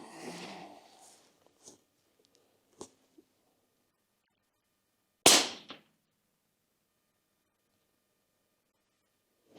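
A single sharp rifle shot from a Hornady 22 Creedmoor cracks out once, loud and brief, after a few faint handling clicks, then silence follows.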